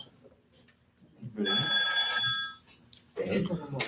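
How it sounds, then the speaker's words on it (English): A telephone bell rings in a single clear burst of about a second, loud and close, with people talking before and after it in a classroom. "The phone is ringing."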